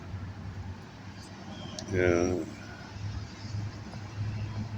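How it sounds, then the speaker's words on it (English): Street traffic drones as a steady low rumble and hum in the background, with a brief nearby voice breaking through. "There's enough traffic noise now to act as a kind of a barrier and lens to keep me from him."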